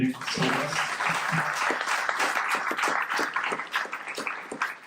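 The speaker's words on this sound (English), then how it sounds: "So big applause for Jirka." Audience applause at a tech talk on staff and principal developers as a speaker comes on stage, steady dense clapping from a moderate crowd lasting the whole stretch, with some chatter mixed underneath.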